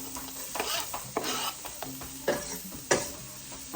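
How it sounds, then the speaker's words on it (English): Chopped onions hit a hot pan and sizzle steadily, with several sharp scraping stirs and clatters of a utensil breaking through the frying noise. "now that the onions are all chopped up, I'm gonna go ahead and throw them in"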